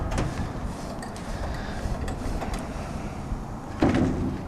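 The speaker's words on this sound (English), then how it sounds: "As we pull down the back ramp door" The back ramp door of a decontamination response vehicle is pulled down, giving a steady rumbling, sliding mechanical noise that ends in a louder clunk near the close.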